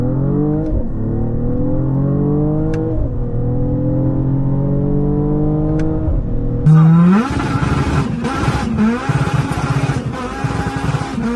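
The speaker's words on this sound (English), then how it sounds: "Every time we're downshifting, man, we get that vroom, that vroom" A 2024 Mercedes-AMG GLE 53 engine drones steadily while driving, its pitch climbing through the gears, then a sharp downshift sets off a louder, raspier rev burst that carries on to the end.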